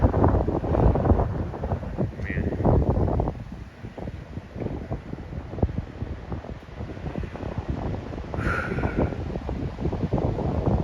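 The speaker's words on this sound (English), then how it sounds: "Which is still very windy today." Strong wind blows beside a railway line, gusting and buffeting the microphone in loud, rough bursts that ease off midway and then pick up again, with no voices.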